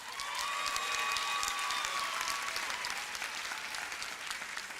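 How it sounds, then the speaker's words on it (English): Graduation ceremony audience applauding steadily in a large hall, a dense sustained wash of clapping that holds loud throughout, with some whistles or cheers rising above it early on. "Timothy, give him a round of applause."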